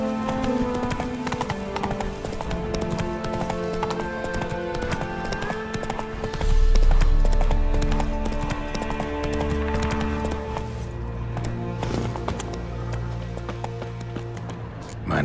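Rapid hoofbeats of a horse galloping in The Witcher 3 on PlayStation 5, a steady loud clip-clop rhythm over layered game music, with a brief heavier rumble midway.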